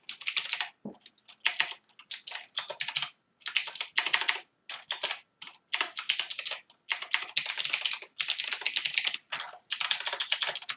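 Rapid, continuous typing on a Rii RK900 gaming keyboard, with dense bursts of key clicks separated by brief pauses, close and fairly quiet.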